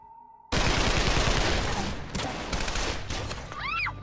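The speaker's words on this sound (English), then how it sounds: "He raised that AK-47 and began spraying the fully automatic gunfire." Fully automatic AK-47 gunfire, a loud sustained burst of rapid close shots with dense cracking, tailing into further scattered shots and a brief high whine.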